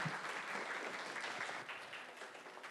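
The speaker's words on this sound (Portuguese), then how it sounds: "uma salva de palmas para o professor" An audience at a physics lecture on particle and string theory applauds the professor, a continuous, fairly distant and soft wash of clapping with no speech.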